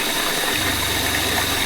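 RV water pump running with water flowing through the plumbing after an accumulator tank install, a steady rushing hiss over a low even motor hum that settles into a smooth pulse, close and constant.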